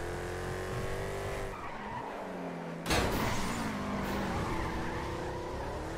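A car in GTA V drives with a steady engine drone, then a sudden screech of skidding tires cuts in midway before the engine carries on, heard without anyone talking.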